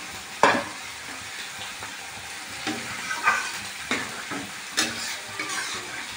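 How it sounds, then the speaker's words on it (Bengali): Hot water goes into a sizzling fig curry in a pan, producing a steady sizzle and hiss broken by a few sharper bursts and stirring clatters, up close, with no talking. "আলাদা গরম জল তুলে রেখেছিলাম, সেই জলটা দিয়ে দিলাম"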